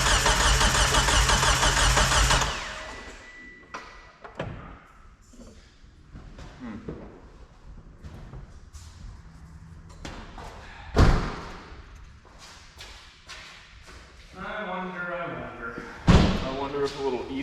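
An Eclipse car engine with mismatched cams cranks loudly in a sustained burst at the start, then dies away. Voices talk afterward with scattered thumps, and a brief mechanical whir returns near the end.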